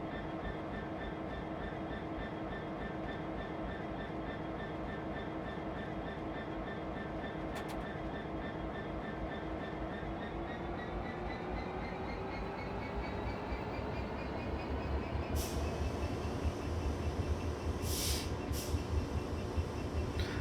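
A steady, loud rumble of a Class 66 diesel freight locomotive in Train Simulator drones throughout as the brakes release, with a rising hiss and brief clanks near the end; no one speaks.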